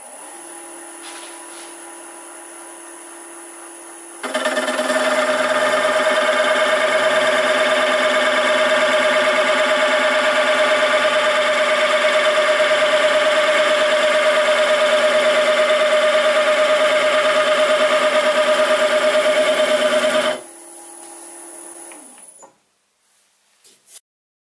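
A texturing cutter tilted slightly downward cuts a spinning workpiece on a woodturning lathe, a steady buzzing, rasping whine that starts abruptly, holds evenly for about sixteen seconds, then stops, leaving the lathe motor's hum.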